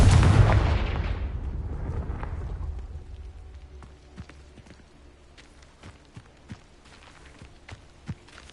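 A Confringo fire spell from Hogwarts Legacy detonates loudly at the start, a big booming blast that rumbles and decays over about three seconds, followed by scattered faint clicks and small impacts.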